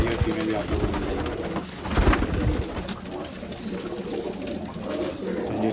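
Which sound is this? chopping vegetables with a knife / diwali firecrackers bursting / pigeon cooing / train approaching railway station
pigeon cooing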